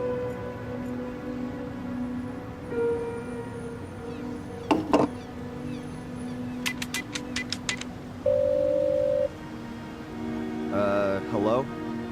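A telephone dials a fortune teller's business number in a point-and-click adventure game. Short clicking beeps and a steady tone sound over faint ambient rain and a low hum.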